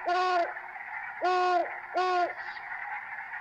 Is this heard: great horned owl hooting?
yes